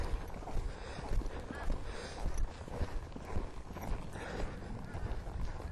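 A horse trots in a rhythmic clip-clop over a ground pole in a riding arena during flying lead change schooling, the hoofbeats steady under wind and outdoor noise.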